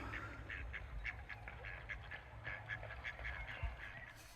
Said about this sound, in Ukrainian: Ти спровоцирував драку серед качок.